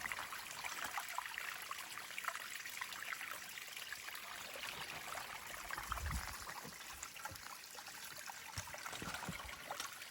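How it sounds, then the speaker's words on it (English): Water trickles and streams down the trunk of a big old tree beside a rock on a forest trail, a soft continuous babble heard close with no talk. "Look at how that water flows down that tree."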